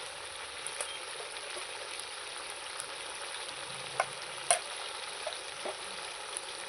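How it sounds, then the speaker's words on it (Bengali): Meat frying with turmeric, salt and chili powder in a pan for Bengali kosha mangsho, giving a steady, soft broadband sizzle with a few faint pops and clicks of stirring scattered throughout, no voices. "এবার আমি মশলাগুলো আর মাংস সব একসাথে কষাতে থাকবো সময় নিয়ে"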